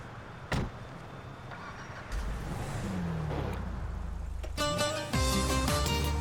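A car in GTA V: a door thump, then an engine starting and idling low and steady, ending in a rising rev with tonal whine, loud and up close, with no talk over it.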